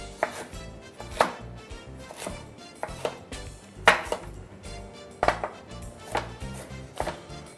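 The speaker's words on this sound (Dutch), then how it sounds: "ook de paprika snijden we in gelijkmatige stukken." Sharp knife strokes chop bell pepper against a cutting board in an uneven rhythm, roughly a dozen crisp, close thwacks with brief pauses between them.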